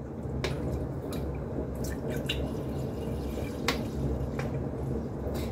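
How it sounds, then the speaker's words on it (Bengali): Freshly strained milk dripping through a strainer in a home kitchen, with scattered faint drops over a steady low background hum and no talk. "দুধটা ছেঁকে নিলাম।"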